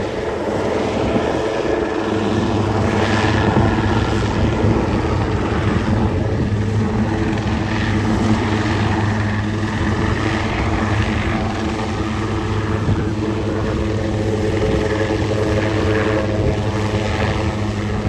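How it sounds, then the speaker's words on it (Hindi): A government helicopter's rotor and engine drone steadily overhead at a river rescue on the Girna river near Malegaon, loud and continuous with no talk. "हेलीकॉप्टर का तवाजुन भी बिगड़ रहा है"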